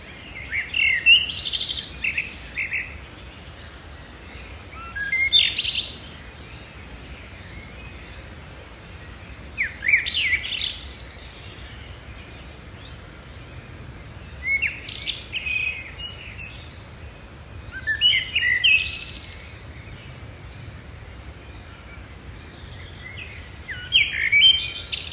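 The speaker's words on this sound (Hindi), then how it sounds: "ये देखिए ये चिड़ियाओं की चहचहाट है।" Birds chirping in short bursts every few seconds, high and bright over a steady low background hiss, with no voices.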